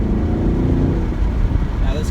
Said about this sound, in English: We'll just downshift it, get a little blip.